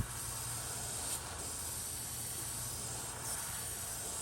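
Steady airbrush hiss spraying Auto Air paint onto a fishing lure, continuous and close, with a couple of brief bursts where the flow surges.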